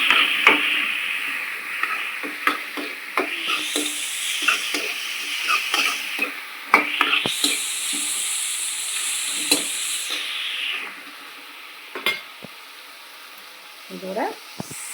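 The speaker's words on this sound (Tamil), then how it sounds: "தக்காளி வெங்காயம் வதங்கிடுச்சு." Tomato and onion sizzle and fry in a pan while a utensil scrapes and stirs them, with knocks and clinks of the spoon over a steady hiss; the sizzling bursts rise and fade, growing quieter toward the end.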